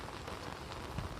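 Heavy monsoon rain pouring down in a village, a faint, steady patter of drops hitting surfaces with no voices.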